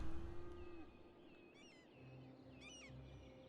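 Cattle in a cattle shed in the city-building game Cities: Skylines give two drawn-out moos, low and fairly faint, over a soft ambient farm hum.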